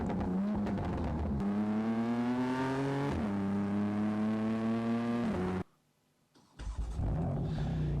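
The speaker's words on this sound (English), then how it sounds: "it sounds great. It's got a great exhaust." A BMW M4 engine revs hard through its exhaust, loud and close, pitch climbing and dropping in two long sustained pulls, then cutting out briefly before a sharp blip restarts the roar.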